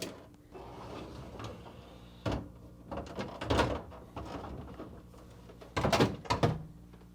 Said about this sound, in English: To remove, pull the drawers out until they stop, tilt up on the front and out.